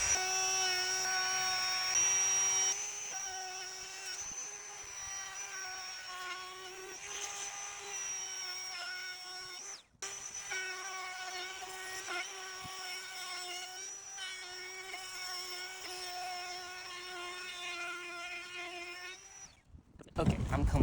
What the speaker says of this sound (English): I want to round them off to give it a really cool polished look, and I can do that with a router.